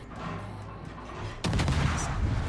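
Naval guns on a warship fire in a naval video game: a sudden heavy salvo bursts in after a low rumbling lull, and rolling booms and crackle carry on loud to the end.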